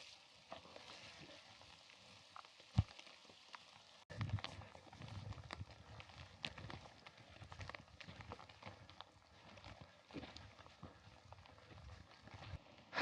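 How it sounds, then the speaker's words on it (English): Hail pelting down during a hailstorm on a solo trek across the Norwegian mountains, a dense crackle of small impacts that starts faint, then turns heavier and constant, with occasional sharper hits. "It's a hailstorm."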